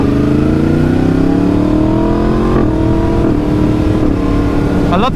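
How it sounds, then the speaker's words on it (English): A Yamaha MT-10 motorcycle accelerates hard and loud, its engine rising in pitch. Quick, seamless quick-shifter gear changes come in succession, with no one speaking. "I love the quick shifter on the MT-10."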